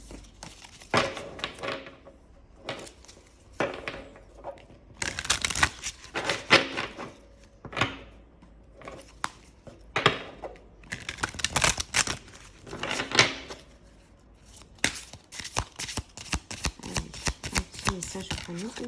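A slick oracle card deck riffled and shuffled by hand in repeated rustling bursts, close and crisp, with a person talking intermittently between shuffles.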